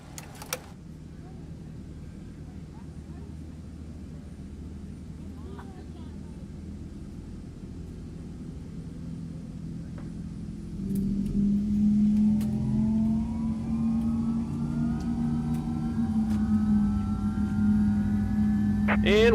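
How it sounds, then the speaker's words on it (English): An MD-11 freighter engine spools up slowly in a flight simulator game, starting as a low hum and swelling into a rising whine and roar while someone talks over it. "I got a new mod for this as well. It slows the engine start down."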